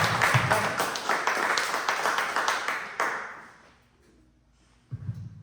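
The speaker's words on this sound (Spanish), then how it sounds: "Den un aplauso a Cristo" A church congregation applauds in a dense wash of clapping for about three seconds, then it fades to near quiet before a low voice begins.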